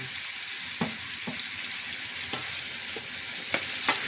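Tomatoes sauté in a hot pan for a Filipino dish of sautéed bottle gourd with misua and sardines, giving a steady close sizzle with a few stirring clicks and scrapes.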